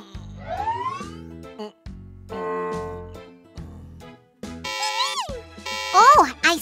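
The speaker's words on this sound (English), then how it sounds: "We fixed the siren, but the police car isn't back to its normal self yet." A cartoon police car siren wails and sweeps in rising and falling tones, mixed with playful music and springy effects while children's voices talk over it.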